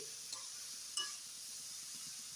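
Vegetables with cabbage being stirred in a pan for vegetable soup, a soft steady sizzle with a couple of faint clinks of a utensil against the pan, quiet and close.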